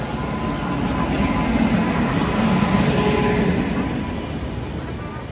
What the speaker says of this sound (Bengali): এটা হচ্ছে Malda Jamalpur queen express, intercity express যাকে বলা হচ্ছে।